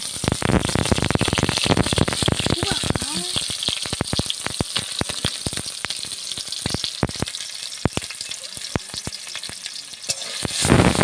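Duck meat fries in a pan of mustard and white oil under a loud, constant sizzle, with frequent sharp scrapes and clacks as a spoon stirs it.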